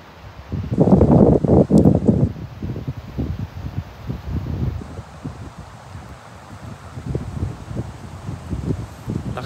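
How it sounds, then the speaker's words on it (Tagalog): Strong wind blows outdoors at Lake Shelly Park in North Carolina, roaring in gusts across the microphone with a loud burst early on, then a steady rustling whoosh. "Lakas na ng hangin."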